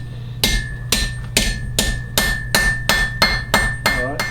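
A big hammer strikes hot steel at a forge, ten sharp ringing blows landing at a steady, fairly quick rhythm, each impact loud and close with a short metallic decay.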